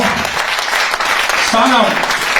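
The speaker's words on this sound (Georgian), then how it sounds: "აპლოდისმენტები მეგობრებო." Audience applause at a jubilee evening in a theatre, a dense steady patter of clapping filling the hall, with voices and cheering mixed in across the short stretch.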